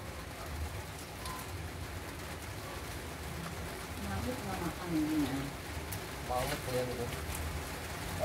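Rain falling outdoors, a steady hiss and patter throughout, with voices talking over it and a few faint bird calls.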